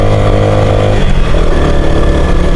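Two motorbikes approach on a hill road, a loud close engine drone with a steady harmonic buzz that shifts in pitch partway through as they draw near.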